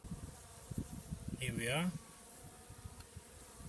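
Honey bees buzz around an open nucleus hive holding a caged new queen, a steady close droning hum with a louder swell of buzzing in the middle, while a voice speaks briefly.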